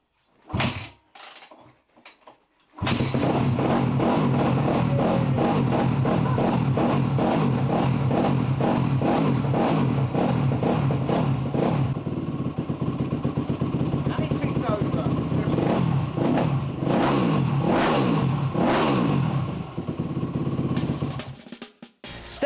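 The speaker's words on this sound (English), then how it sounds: "Let's see if we can kickstart the old YZ250F" Yamaha YZ250F dirt bike, an older cheap machine, kicked over with a few short strokes and then roaring into life, running loud and close with repeated sharp throttle blips and revs before cutting off.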